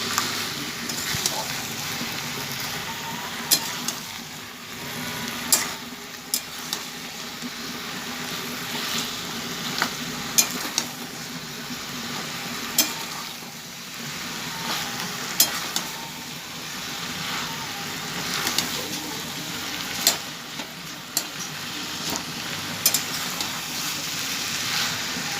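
Fried fish heads stirred in a hot frying pan sizzle steadily through the whole stretch, with scattered sharp clinks of a utensil against the pan and occasional talk over the frying.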